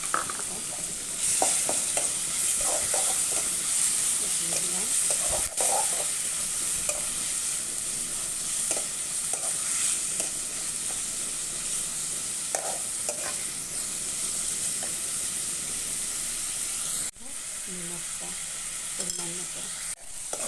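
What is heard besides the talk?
tomatoes frying in a pan with spices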